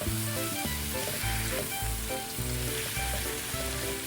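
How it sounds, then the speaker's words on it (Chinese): Beef brisket sizzles and fries steadily in a hot wok as it is stir-fried for braised beef noodles, with a dense, continuous crackle and low scraping stir sounds running throughout. "加入牛腩，翻炒均匀"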